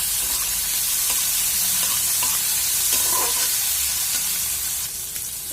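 Chopped tomatoes sizzle in a pan over a high flame, a loud, dense crackling hiss running continuously, broken by a few stirring scrapes and easing off slightly at the end, with no voices.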